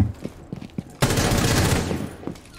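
Gunfire in Rainbow Six Siege: a few isolated shots, then a dense sustained burst of automatic fire that runs loud for over a second before tailing off into scattered shots.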